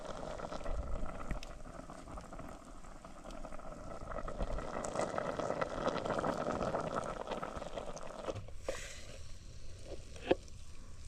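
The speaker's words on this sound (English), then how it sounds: "It's boiling" Pot of macaroni and matoke at a steady boil, with a continuous bubbling, hissing roil close by that cuts off near the end, followed by a couple of light clicks.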